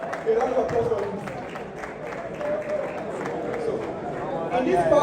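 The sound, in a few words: audience applause at Forex Millionaire Expo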